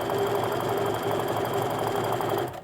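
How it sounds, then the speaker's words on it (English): A domestic sewing machine runs steadily while chain piecing fabric strips for a quilt, giving a fast, even mechanical whir and rhythmic needle chatter at close range, alone with no talking. "And then I keep on sewing off the edge."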